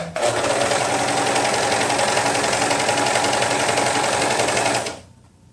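An overlock sewing machine runs steadily while stitching the centre-back seam of a baby look t-shirt, a loud, dense continuous whir with rapid mechanical chatter that stops abruptly near the end.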